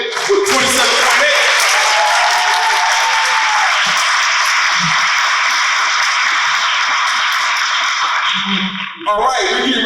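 A crowd at an adult poetry slam in New Haven, Connecticut bursts into loud, dense, sustained applause for a poet, a continuous roar of clapping close by that runs for several seconds before breaking off.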